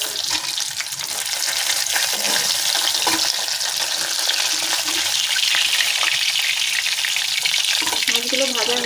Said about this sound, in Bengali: এরকম হালকা করে সব মাছগুলো ভেজে নেব।